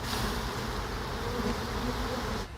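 Honey bees swarm and buzz thickly as a brood frame covered in nurse bees is shaken over a hive, a dense, continuous close drone that cuts off abruptly at the end.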